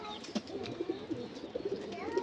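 A big Kaldom pigeon, a female being held in the hand, gives soft low coos in short repeated bursts, faint and close, with quiet ambient noise around.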